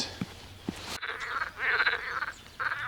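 Frogs croak in a loud, rasping chorus, rising and falling in bursts, with a couple of soft knocks beforehand.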